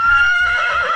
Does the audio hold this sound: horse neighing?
yes